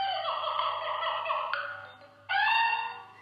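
A noisy children's board book with touch tabs plays its monkey sound, a loud electronic animal chatter and squeal in two bursts with a short pause between them, with no talking.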